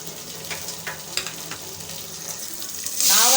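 Chopped carrot, capsicum, tomato and potato drop into a hot pan and start frying, a close crackling sizzle with light stirring before a louder burst of hiss near the end.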